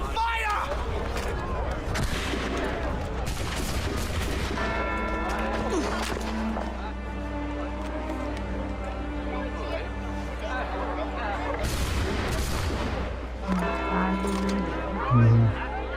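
Gunfire in an Assassin's Creed 3 cutscene, sharp bursts of shots scattered through a loud battle scene with shouting voices and a steady low drone beneath.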